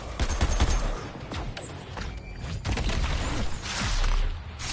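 Airstrike gunfire in a video game: a dense, continuous barrage of rapid shots and blasts rolling on for the whole stretch, loud and close, with no talk over it.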